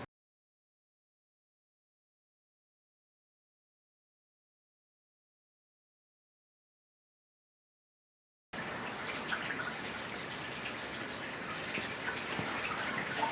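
Steady rushing water pouring into an aquarium tank being refilled after restoration, starting abruptly after a long silence and continuing as a broad, even splashing hiss with no talking.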